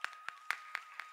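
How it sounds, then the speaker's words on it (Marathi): Hand claps ring out at a Shiva Mahapuran religious discourse in Alandi, about five sharp, evenly spaced claps within a second, faint and distant with no voices over them. "ज्यांच्या ज्यांच्या पंक्ती आहेत त्यांच्याकरता टाळ्या वाजवा."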